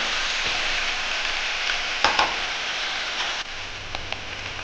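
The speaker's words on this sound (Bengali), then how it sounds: "সবজিগুলো ভালো করে লাল করে ভাজতে হবে।" Chopped vegetables for a radish and potato curry fry in hot oil, giving a steady close sizzle with a few brief clinks of a utensil against the pan.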